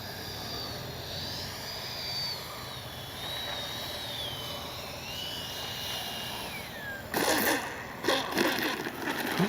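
An FMS Avanti S 70mm RC jet comes in to land with a steady turbine whine that slowly drops in pitch as it spools down, then a rough burst of scraping noise from touchdown and rollout near the end.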